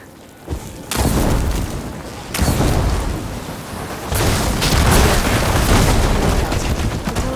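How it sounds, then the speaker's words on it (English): Blaze barrels blown up with fire ammo in Horizon Forbidden West, video game: a burst of loud explosions followed by dense, sustained rumbling and crackling blasts that build and roll on close and heavy. "Hitting those blaze barrels with fire ammo should do the trick."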